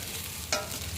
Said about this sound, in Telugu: 5 నిమిషాలు మగ్గాక మళ్ళీ మూత తీసి కలుపుకొని చూడాలి